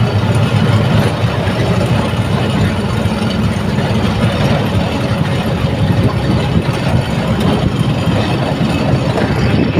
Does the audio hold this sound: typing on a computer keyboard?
no